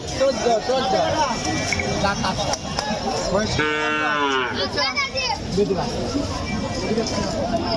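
Cows at a cattle market give a loud, close moo in the middle, heard over busy crowd chatter and dense market background noise.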